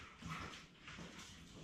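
A pet dog indoors gives soft whimpers and muffled yips, a faint steady whining texture over low room noise, fairly close but quiet.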